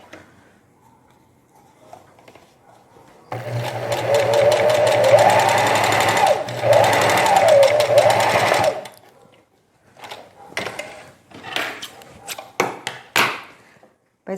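A domestic knitting machine works a knit jacket. Its mechanical whirring clatter runs loudly for about five seconds, then breaks into scattered sharp clicks and knocks, with no one speaking.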